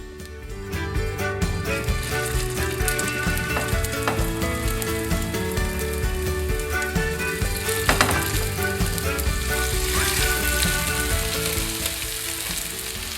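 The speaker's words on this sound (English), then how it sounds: "we're going to just fry these on a really gentle medium heat until they're nice and golden brown" Chicken rissoles frying in a pan over gentle medium heat, a loud, dense, continuous sizzle of hot oil with faint spattering, steady throughout with no talk.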